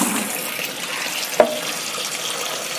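Dirty water is scooped out and poured while a new fish tank is being set up, heard as a continuous close, fairly loud splashing trickle with a single brief clunk near the middle and no talking.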